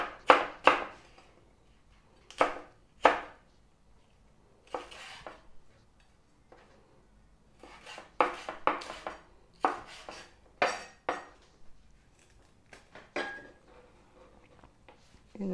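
Knife chopping onions and chili peppers on a board while cooking meat, heard as irregular bursts of sharp clicks and taps with short pauses between, fairly close and alone without talk.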